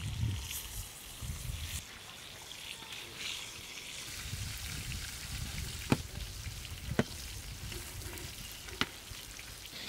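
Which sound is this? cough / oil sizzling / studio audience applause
oil sizzling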